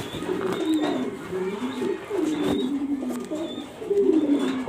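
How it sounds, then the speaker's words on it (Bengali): Soft cooing of a female racing pigeon, a Maxi racer with a BRPOA club ring, repeating in low throaty phrases at close range, with faint chirps from other birds in the background. "এটা মাদি কবুতর রেসার মাক্সি মাদি কবুতরটা দেখাচ্ছি আপনাদেরকে।"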